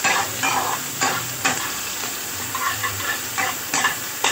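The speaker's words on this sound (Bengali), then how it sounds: "পেঁয়াজটা একটু ভালো করে এরকম করে নেড়ে নিতে হবে" Onions fry in hot oil with bay leaf and dried chilli under a continuous close sizzle. Repeated scraping strokes of stirring sound at an irregular rhythm.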